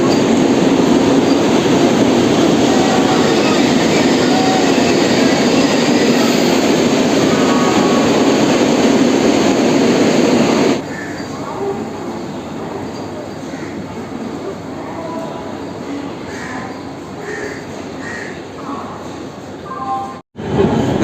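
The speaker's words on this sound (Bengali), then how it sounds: "হাওড়া পুরী বন্দে ভারত ছেড়ে চলে যাচ্ছে হাওড়া স্টেশনের একুশ নম্বর প্ল্যাটফর্ম থেকে" The Howrah–Puri Vande Bharat express rumbles loudly out of platform 21 at Howrah station, a heavy roar that drops suddenly to a quieter rolling clatter as it pulls away.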